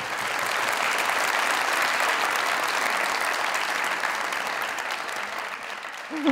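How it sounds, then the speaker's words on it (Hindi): Loud, dense applause from a studio audience at a comedy talk show taping, sustained steadily for several seconds with no voices over it, fading slightly toward the end. "एक दफा जरा जी माया जी के लिए भी जरा जोरदार तालियां।"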